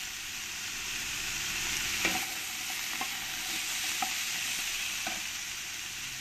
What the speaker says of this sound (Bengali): দেখো, লাউগুলো আমি ভেজে নিয়েছি। বেশি ভাজবো না,